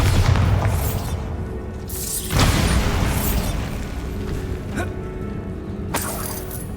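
Bombarda blasting-spell explosions boom and shatter in Hogwarts Legacy, several loud bursts spaced a second or two apart over a dense, rumbling game backdrop.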